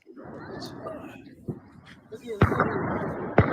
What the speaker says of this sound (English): video of some gunfire in the background.